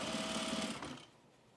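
A sewing machine stitches denim for a pair of men's jeans, a fast steady whirring run that slows and stops after about a second, with no talking.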